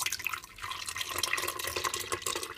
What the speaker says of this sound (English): I'm gonna strain it at least 3 times.